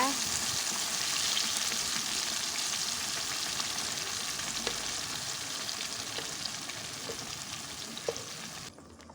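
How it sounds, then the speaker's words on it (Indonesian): A ground spice paste for spicy chicken feet being sautéed in a pan, with a loud, continuous frying hiss and occasional light stirring clicks, and no talking. "sekarang kita akan tumis bumbu yang sudah kita haluskan tadi ya"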